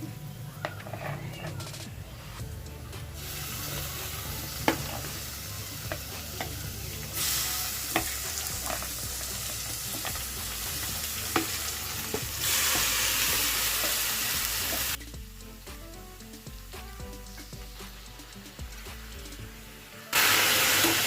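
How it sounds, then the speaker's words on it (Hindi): Marinated chicken for Hyderabadi haryali chicken sizzles and fries in a hot pan, with steady loud frying hiss and repeated stirring scrapes across the whole stretch, the sizzle swelling and easing as the pieces are turned. "अभी हम इसमें मैरिनेट करके रखा हुआ चिकन डालेंगे।"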